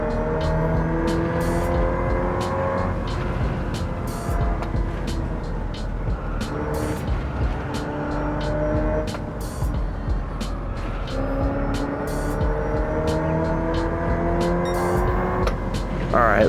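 A Hyundai Ioniq 5 N in Gran Turismo 7 whines loudly through a race, its electric tone sweeping up and down through repeated acceleration and braking into corners, with sharp ticks overlaid and no talk.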